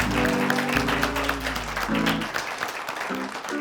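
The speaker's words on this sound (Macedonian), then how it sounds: "аплауз за Пеперминт" A television studio audience claps for the guest Peppermint, a lively burst of applause with a tonal hum sounding briefly beneath it, the clapping holding steady and then thinning toward the end.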